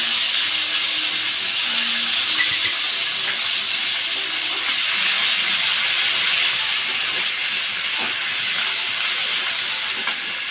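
Ginger-cumin paste sizzles steadily in hot oil in a kadai while eggplant dishes cook, a continuous broad hiss with a few faint clinks near the start.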